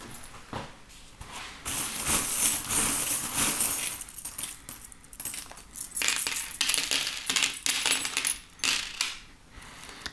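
Tarot cards and small metal charms are gathered up by hand, making repeated light clinks and jingles with soft card shuffling. The sounds are close, come in bursts and have no talking over them.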